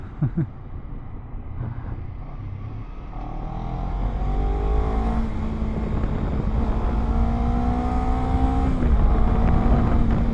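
A car overtakes another on a bend of a wide, smooth road, its engine climbing in pitch as it accelerates and holding a loud, steady drone with rising gear tones; no talking.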